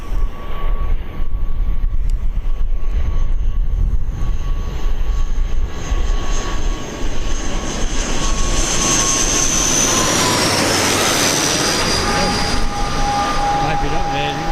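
An Aer Lingus jet airliner at Birmingham Airport roars past, a loud broad engine rumble with a rising whine that swells and shifts pitch as the aircraft passes.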